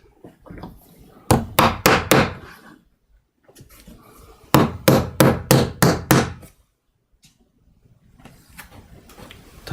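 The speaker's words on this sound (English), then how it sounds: "I'm just going to tack them in" A hammer drives nails to tack pieces in place: two bursts of about five or six sharp, ringing strikes in steady rhythm, close and loud, separated by a quiet pause, with faint background shuffling.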